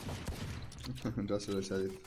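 Pistol shots in a video game crack out in quick bursts, with a short spoken remark over the firing.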